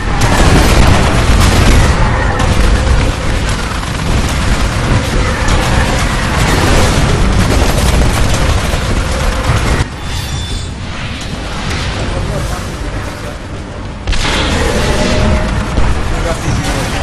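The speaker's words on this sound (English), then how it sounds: "Those mortar titans are really hurting the harvester." Shelling from mortar titans pounds a harvester in the video game Titanfall, a dense, loud barrage of booming explosions and battle noise layered over one another, continuous and close with no real pauses.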